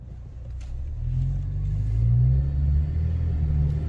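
A 2022 Ford Maverick on the road gives a low, steady engine rumble, moderately loud and swelling slightly midway, heard from inside the car with no talking.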